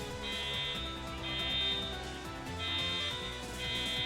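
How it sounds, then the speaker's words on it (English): A fire alarm in a convention hall at a retro gaming expo sounds in repeated high-pitched electronic tones, about four pulses, faint and distant over a steady roar of room noise. "we currently right now have a fire alarm going off in the convention"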